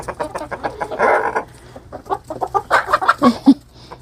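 Chickens in a coop cluck busily and close by, a dense run of short clucks and squawks with a burst of louder calls near the end.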